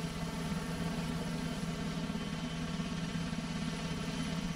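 A military medical evacuation helicopter drones steadily at a moderate distance, its engine and rotor making a constant, even hum with no voices.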